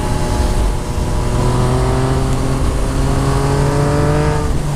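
A 2014 Yamaha MT-09 motorcycle fitted with a full Akrapovic exhaust pulls hard under acceleration, its engine note rising steadily in pitch, loud and close with heavy wind rush throughout.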